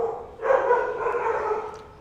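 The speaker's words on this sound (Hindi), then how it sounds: "ये पीछे बैकग्राउंड में डॉग्स भौंक रहे हैं" Dogs barking in the background outdoors, a short burst of a few yaps and barks at moderate distance, fairly faint under a quiet indoor setting.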